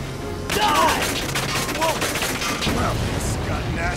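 Dense battlefield gunfire in the PS4 video game Valkyria Chronicles 4 breaks out suddenly as overlapping rapid bursts and crackling volleys. It stays loud and continuous, with brief voice exclamations mixed in.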